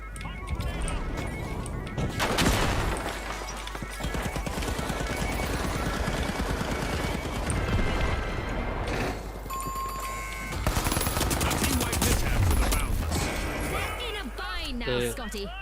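Gunfire from the video game THE FINALS, rapid bursts and sustained automatic fire with crashes amid dense game noise, while someone talks over much of it.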